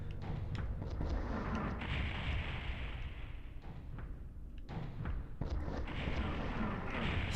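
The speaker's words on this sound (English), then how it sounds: "So many missiles! When does it end?" Missiles explode over and over during a video game boss fight against Heisenberg, as deep booms and rumbling blasts roll in one after another, with brief gaps between heavy impacts.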